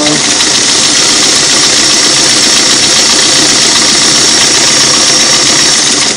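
A Singer Model 338 sewing machine runs steadily at high speed while sewing a single-needle zigzag stitch, giving a loud, continuous mechanical whir with fast, even clatter and no pauses.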